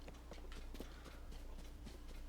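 Horse hooves clip-clop in a steady walking rhythm in the video game Tears of the Kingdom, very faint and close, with no talk over them.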